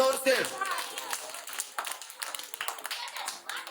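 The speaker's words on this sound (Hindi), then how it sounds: "सभी तालियां बजाओ जोर से।" Children in a classroom clap loudly in quick, uneven bursts while an adult voice talks over them.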